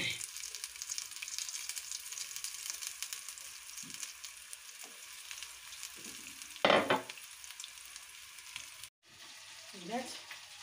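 Eggplant slices fry in hot oil in a pan, a steady soft sizzle throughout with a brief louder hiss and clatter midway, a short cut to silence, and a voice briefly speaking near the end.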